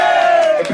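A crowd at a dance contest roars and cheers in a loud, sustained swell with a held shouted note, close and brief, with no clear speech.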